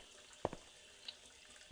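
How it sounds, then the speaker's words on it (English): A constant trickle of discolored, rust-tainted water from ancient pipes in a video game, heard as soft faint drips and small splashes against a quiet hiss, with a few distinct drops spaced apart. "See a constant trickle of discolored water, tainted by rust from ancient pipes."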